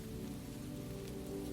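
Steady rain on a bookshop window in Barcelona at night, a soft continuous patter and wash of drops on glass, faint and even, with no voices.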